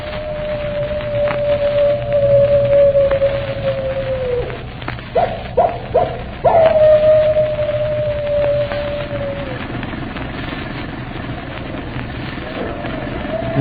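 A sustained wavering animal howl used as a radio drama sound effect, long and mournful, broken by short yelping bursts midway before the howl returns and fades, with a steady low rumble underneath.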